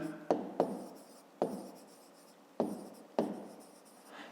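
Handwriting on paper while working a fifth-grade maths exercise: pen strokes come in five separate bursts, each a sharp scratchy onset that tails off, close by and fairly quiet, with no talking.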